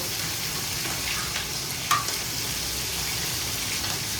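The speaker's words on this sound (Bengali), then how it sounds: "এদিকে ইলিশ মাছ ভাজছি আর এদিকে কুমড়ো ভাজা করছি।" Hilsa fish and pumpkin frying together in a pan give a steady close sizzle with a few light stirring scrapes and one brief sharper clink midway, no voices.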